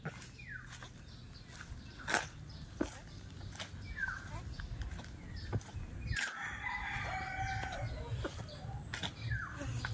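Rooster crowing on a farm in Batangas City, rising in a long call partway through among other fowl sounds, with a rustling outdoor background and people talking nearby.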